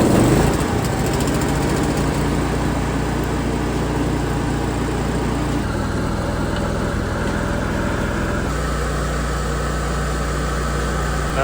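A portable generator fires up outdoors in cold weather and runs steadily, its loud, continuous engine drone shifting pitch slightly a couple of times, with no talking over it.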